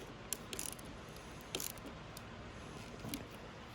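A ratchet clicking faintly while battery box hardware is tightened, three short clusters of quick clicks spaced about a second apart over quiet background noise.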